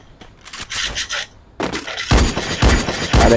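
Gunfire in a shooter video game, loud bursts of rapid shots in quick clusters separated by short gaps, growing denser toward the end.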